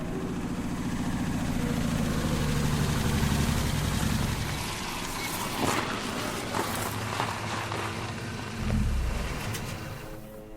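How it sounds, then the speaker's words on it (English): A heavy army truck engine rumbles steadily, with low droning tones that build and then fade slightly before a renewed surge near the end, heard alone without voices. "It's a truck of some kind."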